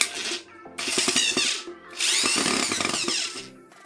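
An ibell electric screwdriver drives a screw into wood in three whirring bursts with short pauses between them, close and loud, with no talking.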